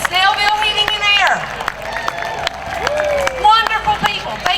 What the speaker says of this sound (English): I want a round of applause for our sponsors.